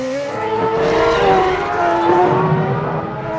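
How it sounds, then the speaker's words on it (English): A 2006 Williams Formula 1 car is driven by Webber at the Brazilian race while braking late into contact with his teammate. A loud, close, high engine wail is joined by screeching tyres, all in one sustained burst. "Webber brakes late and gets hit by his teammate"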